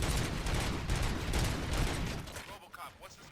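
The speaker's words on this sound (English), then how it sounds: "Gunshots? What's going on?" Rapid gunfire bursts from the RoboCop: Rogue City video game rattle densely for over two seconds and then thin out into scattered shots and mechanical clatter.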